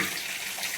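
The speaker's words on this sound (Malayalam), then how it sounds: "സ്റ്റോക്ക് എടുത്ത് നമ്മൾ ഒഴിക്കുകയാണ്" Chicken stock is poured into a pan for a masala chicken tawa fry, making a brief, steady gushing pour of liquid.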